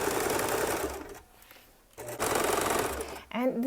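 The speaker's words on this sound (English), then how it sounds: "I'm gonna backstitch, and then I'm just gonna continue to sew" Domestic sewing machine stitching a hem with a backstitch, running in two loud bursts split by a pause of just under a second, then a brief near voice at the end.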